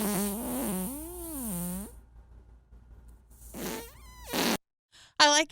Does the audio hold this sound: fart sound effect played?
yes